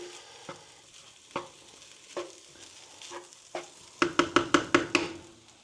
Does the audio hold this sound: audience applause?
no